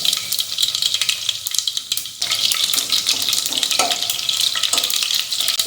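Garlic and cumin seeds sizzle in hot oil for a tempering, with steady frying hiss and a few stirring scrapes against the pan, close and without talk.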